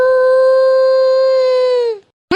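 A cartoon character gives a long, loud, steady voiced howl in imitation of a dog, holding one pitch for about two seconds before it breaks off, followed by a short sharp sound.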